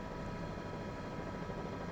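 A news helicopter hovers over Oak Lawn, its steady rotor and engine roar filling the air continuously and loudly with no voices heard.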